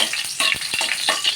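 Garlic sautéing in hot cooking oil, a steady close sizzle broken by scraping stirs of a spoon, with no talking.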